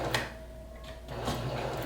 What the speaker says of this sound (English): And then I'm going to reverse stitch back,